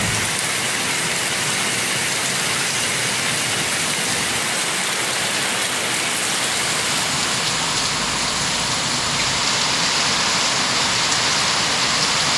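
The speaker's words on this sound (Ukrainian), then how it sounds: "Дощ так взявся по-серйозному." Heavy rain in Costa Rica pours steadily in a dense, unbroken roar of drops hitting surfaces close by, loud and constant with no voices.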